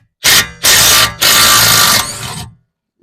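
Power tool, likely an impact wrench, spinning off an 18 mm bolt on a BMW E36 coilover, in three loud bursts separated by short pauses, with no talk.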